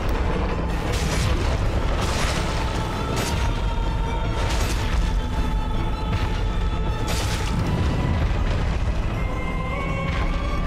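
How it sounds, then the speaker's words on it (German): A boss in Dark Souls Remastered blasts the ground, sending several heavy explosive booms over a continuous loud rumble, with bursts spaced a few seconds apart. "Jetzt lässt er den Boden explodieren."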